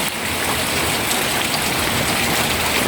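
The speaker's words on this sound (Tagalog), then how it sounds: "Sobrang lakas ng ulan." Heavy rain pouring steadily during flooding, a loud, dense, unbroken roar of water with no voices.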